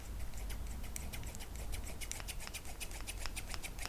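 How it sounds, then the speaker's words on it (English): Scissors snip repeatedly in a quiet ASMR setting, a soft steady run of crisp metallic cuts and scratchy blade sounds, close to the microphone and faint overall. "I have my scissors"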